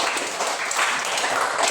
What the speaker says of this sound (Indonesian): tepuk tangan dulu untuk Rizky ya